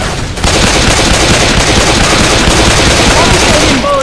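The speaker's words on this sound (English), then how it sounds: "I'm shooting bullets for the zombies." Loud, dense automatic gunfire while shooting zombies in Left 4 Dead 2, continuous rattling bursts that fill the whole stretch after a brief quieter start, with shouting voices over it.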